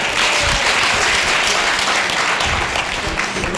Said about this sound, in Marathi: तुझ्यासाठी जोरदार टाळ्या होत